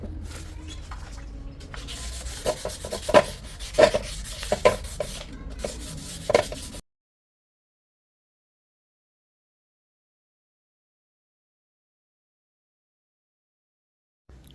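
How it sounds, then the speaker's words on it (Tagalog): A motorcycle airbox cover is hand-sanded with fine 1000-grit sandpaper, giving close, scratchy rubbing strokes in uneven bursts for several seconds before the sound cuts to silence. "Lihain na natin guys ng 1000."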